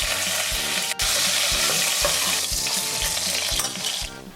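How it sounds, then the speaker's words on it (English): Pork knuckle fries in hot oil in a heavy-bottomed saucepan, giving a loud, continuous sizzle and crackle. Faint clanks from stirring or shifting the meat break in now and then, with no voices. "heat the oil in a heavy bottom saucepan, add the pork knuckle and fry off on all sides until it takes on some colour"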